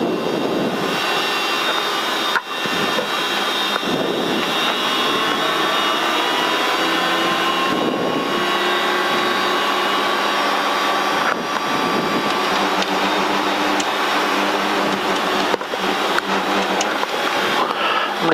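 Training helicopter in flight during a lesson, its engine and rotor droning loud and steady throughout, a continuous whine over a low rumble, with a rising tone sweeping upward midway; brief clicks break in a few times.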